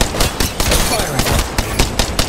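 Rapid gunfire from the video game Phase Chamber, dense repeated shots at a steady clip, loud and close, with a game soundscape and faint voice bits mixed underneath.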